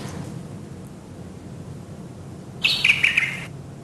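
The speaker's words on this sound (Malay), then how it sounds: "tambah bunyi kicauan burung" Birdsong added as a sound effect to a short animation: a brief burst of bird chirps near the end, heard over a steady hiss.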